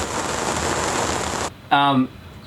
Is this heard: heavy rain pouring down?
yes